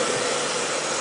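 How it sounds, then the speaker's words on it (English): A hair dryer blows on a tiny Yorkie dog, giving a close, continuous whooshing whir with a steady airy hiss over about a second, heard alone. "Yorkie doesn't mind the hair dryer."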